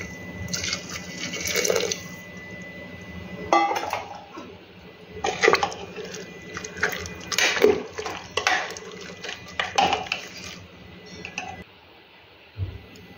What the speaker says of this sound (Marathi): आता यामध्ये आपण गरम पाणी टाकून घेऊया। चिकन बुडेल इतपत आपल्याला यामध्ये गरम पाणी टाकून घ्यायचे आहे।